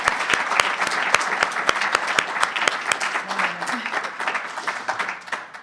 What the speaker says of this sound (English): join me in giving both Francis and Con Edison a round of applause for being so forward-thinking and so generous in underwriting this series.